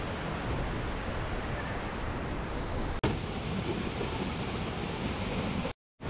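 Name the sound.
roaring waterfall water flow at Jharkhand falls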